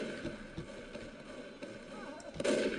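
Gunfire in a first-person shooter video game, with scattered shots under a steady game soundscape and a louder burst near the end; no one speaks.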